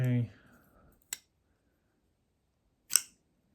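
A short voice fragment, then two sharp, crisp clicks about two seconds apart, close and isolated against silence, like a Jasper Voxnaes folding knife mechanism snapping.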